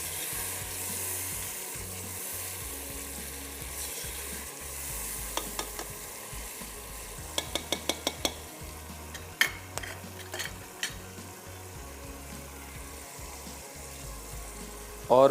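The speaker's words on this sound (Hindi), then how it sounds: "बीफ का स्टॉक डाल के थोड़ा सा इसको मज़ीद भूनेंगे" Onions and beef stock frying and being stirred in a karahi, a steady low sizzle with scraping spoon strokes and a few sharp clinks of metal near the end.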